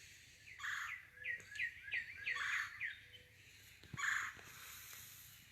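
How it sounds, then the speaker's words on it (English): Birds chirp outdoors in a quick run of repeated calls, fairly close, followed by a brief pause and another bright call. "I walk outside and I hear birds."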